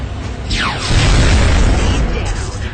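A drone blown apart after a laser pistol shot in XCOM: Enemy Unknown, a loud booming blast with a swooping tone, rumbling on steadily through the clip.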